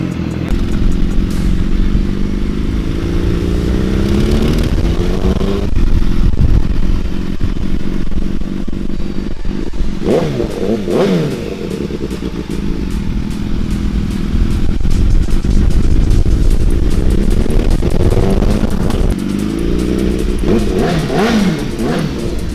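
A superbike motorcycle roars along in continuous loud, close revving and acceleration, with repeated gear changes and crackling exhaust pops and bangs throughout.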